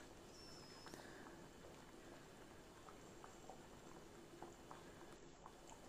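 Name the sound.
tetla mixture boiling in a pot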